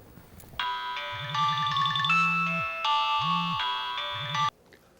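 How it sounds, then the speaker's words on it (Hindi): A phone rings on an outgoing call, repeating in bursts of tones with short pauses between them. The ringing is heard alone, clear and close, and then cuts off when the call is answered. "ले भाई घंटी तो जा रही है,"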